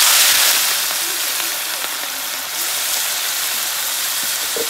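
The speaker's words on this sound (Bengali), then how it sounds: "এখন আমি মোরলা মাছগুলো দুবার করে করে ভেজে নেবো" Small mourala fish fry in hot mustard oil, giving a loud, steady, close sizzle and hiss that holds evenly throughout with no voices.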